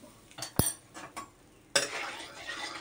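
A wok of hot mustard oil with salt and turmeric, stirred with a metal utensil: one sharp clink of spoon against the pan, a few softer scrapes, then a steady sizzle rising and holding close by.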